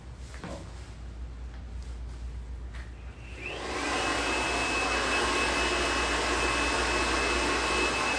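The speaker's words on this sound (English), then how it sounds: "That's why I use the blow dryer for this application" Blow dryer switching on partway through and then roaring steadily with a high whine while styling hair for a bob haircut, louder after the start and with no talking.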